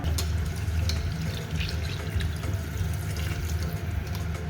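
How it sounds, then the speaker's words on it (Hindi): Water pouring steadily into a pot of chicken and rice for pulao, a continuous close splashing rush with small bubbling drips on top, loud and unbroken throughout. "तो अभी हम इसमें पानी डालेंगे"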